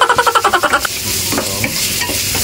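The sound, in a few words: garlic frying in a pan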